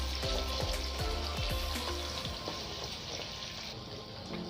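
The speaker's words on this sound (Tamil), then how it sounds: "வெங்காயம்லாம் நல்லா ஃப்ரை ஆகட்டும்" Onions fry in oil in a pan, giving a soft, steady sizzle with scattered crackles and pops, fairly quiet and close, heard alone without speech.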